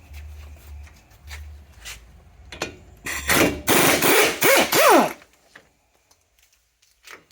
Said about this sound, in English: next 18mm socket to remove the bolts for the hub assembly